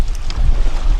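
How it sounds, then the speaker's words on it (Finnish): Strong wind blowing at sea in a summer archipelago, buffeting the microphone with a loud, continuous low rumble and gusty roar for about a second. "Melkoinen tuuli."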